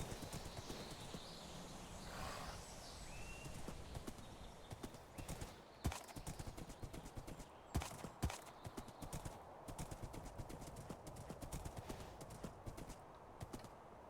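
Horse hooves clip-clop steadily in a Minecraft-style multiplayer survival game, a rhythmic run of hoof hits with a brief whinny early on, heard alone without talk.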